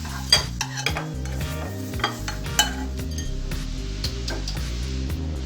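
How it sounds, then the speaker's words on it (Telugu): A spoon stirs fried tempering into a spicy egg garlic curry in a pan, with scraping strokes, light clinks against metal and a soft sizzle underneath, close and steady. "మనం ముందుగా ఫ్రై చేసుకున్న తాలింపుని మన కోడిగుడ్డులో కలుపుకోవాలి."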